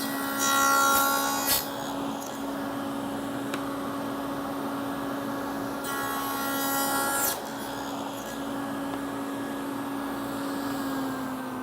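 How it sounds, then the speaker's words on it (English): A saw cuts a tenon into a wooden test piece in a cabinet shop, two bursts of rasping cutting over a steady machine hum, with quieter running in between. "I'm going to use this to cut my first tenon and see how close we are."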